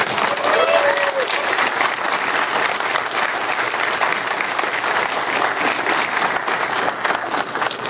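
Sustained audience applause fills the room at a film Q&A, a dense and steady wash of clapping that stays loud throughout, with a voice briefly heard over it.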